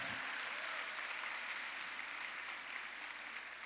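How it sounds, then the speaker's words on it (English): Audience applause for teachers at a conference session, a steady wash of clapping from a roomful of people, fairly faint and distant, holding evenly throughout. "Can we give them a round of applause"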